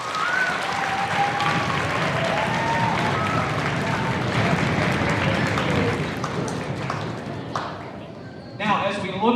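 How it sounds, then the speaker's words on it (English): Applause from an elementary school audience at a speakers event, a dense sustained wash of clapping that runs loud for several seconds, thins out near the end, and has voices mixed in. "Give them a big round of applause."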